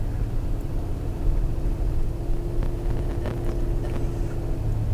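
Car rolling through a residential golf community neighborhood at The Reserve at Lake Keowee, a steady low road and engine rumble filling the whole stretch with faint clicks and rattles on top.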